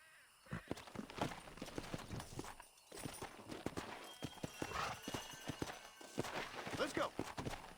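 Horse hooves clip-clop on the ground in the Red Dead Redemption video game, a steady, fairly loud rhythm running throughout, with a horse whinny mixed in and a voice talking over it.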